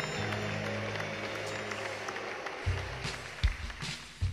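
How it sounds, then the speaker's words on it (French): Festival audience applauding as end credits roll, a broad steady wash of hand claps that swells into louder, sharper bursts toward the end, with no talk over it. "Au générique, les applaudissements résonnent, accompagnés de l'usuelle ovation."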